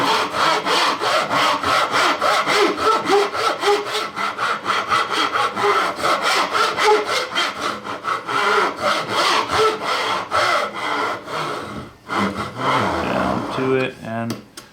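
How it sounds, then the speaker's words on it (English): A hand saw cuts wood for a tapered sliding dovetail joint, with fast, rhythmic push-pull strokes sounding close and loud throughout, briefly pausing near the end before a few final strokes. "now we can work the saw right up"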